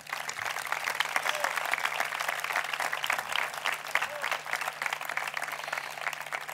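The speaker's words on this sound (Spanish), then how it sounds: "Un aplaudiment per a ells." Audience at a town patronal festival presentation giving a round of applause, continuous dense clapping at moderate distance with a steady electrical hum beneath.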